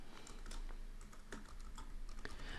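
Rapid typing on a computer keyboard, quick irregular clicks and key taps continuing steadily at close range with no voices.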